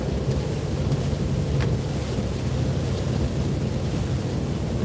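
Heavy rain pours in a steady, dense roar, with a low rumble that could be distant thunder, heard from inside a vehicle on a road.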